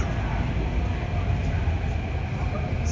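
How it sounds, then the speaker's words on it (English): A Singapore metro train runs with a steady, loud rumble and rushing hiss inside the carriage, continuous and even throughout, with no voices. "I always love a metro."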